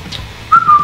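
A person gives a short, clear whistle with a brief flat tone, then a stronger sustained note, loud and close with no talk over it.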